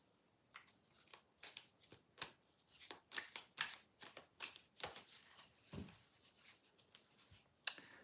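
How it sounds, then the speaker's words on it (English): Tarot cards are shuffled by hand in a series of quick riffling bursts, soft and close, with short pauses between each pass and no talking. "Let's shuffle it properly."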